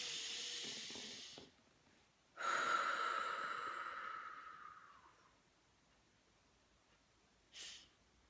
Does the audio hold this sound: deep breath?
yes